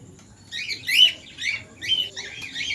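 A breeding pair of lutino cockatiels, sold at a bird market in Haldia, giving repeated bright, shrill chirps and calls in short bursts, fairly close and clear, with no talking.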